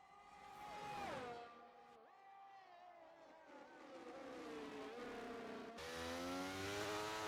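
Racing car engines in an F1 video game Grand Prix, several cars whining and revving with pitch sweeping up and down through gear changes, a continuous loud drone with no talk.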